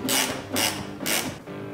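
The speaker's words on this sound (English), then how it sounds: "In the fender here, there's a 10 mil bolt that we're gonna have to take off." Ratchet wrench turning a 10 mm bolt on a Toyota Tacoma fender, three quick ratcheting bursts in an even rhythm, close and crisp, followed by a brief quieter click.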